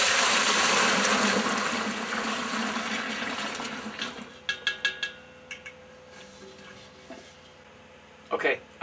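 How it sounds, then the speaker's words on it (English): Wort poured into a plastic fermentation pail for home-brewed beer, a loud steady liquid rush for about four seconds that tapers into scattered splashes, knocks and a final clatter of handling noise. "I just poured my wort into my fermentation pail"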